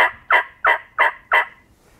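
A wild tom turkey in full strut gobbles nearby outdoors, letting out four loud, evenly spaced rattling bursts in quick succession with no talking over them.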